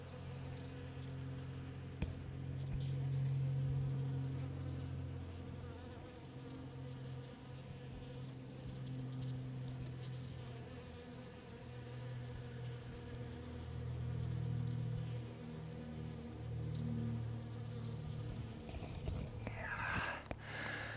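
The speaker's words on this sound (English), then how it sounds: "there are probably many thousands of bees at work among all these flowers here" A continuous drone of many honeybees buzzing among garden flowers fills the air, swelling and fading gently, with a brief rustle near the end.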